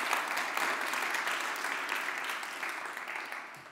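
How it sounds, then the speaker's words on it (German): Steady, broad audience applause for Birne 7 and Monevo at the Bayerischer Digitalgipfel CODEBAVARIA 2021, a dense continuous clapping that holds for several seconds and slowly fades slightly, with no talk over it. "Bitte noch mal einen ganz großen Applaus für Birne 7 und für Monevo."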